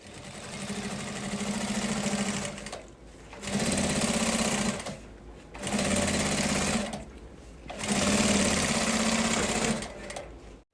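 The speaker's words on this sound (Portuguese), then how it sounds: "vai passar uma costura o mais próximo da cremaleira possível, com um pezinho de 1/4" Three bursts of a sewing machine running fast as it stitches a lined seam close to the zipper of a school pencil case with a quarter-inch presser foot, a steady mechanical rattle separated by short pauses.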